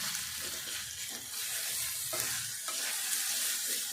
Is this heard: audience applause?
no